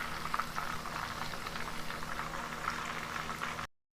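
Chicken legs fry in hot oil over a low flame, giving a steady, close bubbling sizzle that carries on evenly until it cuts off abruptly near the end.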